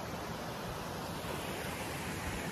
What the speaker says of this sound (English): I'm just following this waterfall up.